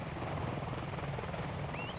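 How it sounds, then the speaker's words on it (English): Apache helicopter gunships arriving in Albania produce a steady broadband rotor roar, moderately distant and continuous, with no voices over it. "the arrival in Albania of the final elements of the Apache helicopter gunship force"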